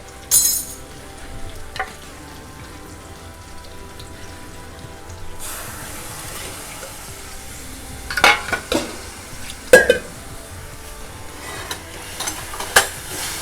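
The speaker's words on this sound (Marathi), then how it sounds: "गॅस एकदम कमी करून ठेवलं आहे चांगलं असं परतून घ्यायचं" Soft stirring and gentle sautéing of a mango raita mixture with jaggery in a pan over very low heat, faint scrapes and light sizzle with occasional sharper clicks of the spoon against the pan.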